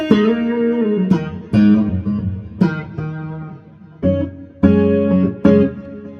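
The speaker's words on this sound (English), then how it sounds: "Nice neck pickup sound" Clean electric guitar chords from the neck pickup of a modded Tanglewood Stratocaster with Lace pickups, strummed in a loose rhythm, warm and rounded, each ringing out before the next strike, no voices.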